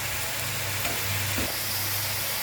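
Ground spice masala, including roasted cumin and coriander powder, sizzles and fries steadily in a pan, with a constant close crackling hiss and brief stirring scrapes, no voices.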